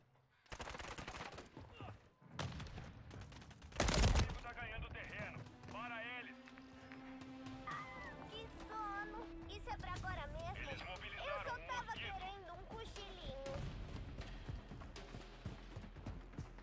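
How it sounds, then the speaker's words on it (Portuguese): Gunfire in Call of Duty Modern Warfare 3, rapid bursts and a loud shot early on, mixed with game music and effects while a player talks over the action. "Tô levando um tiro aqui."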